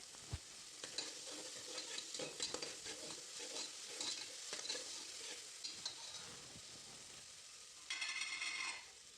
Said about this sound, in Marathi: थोडं तेलामध्ये चांगलं परतून घेऊया. त्यानंतर यामध्ये तुरीचे दाणे टाकलेले आहे.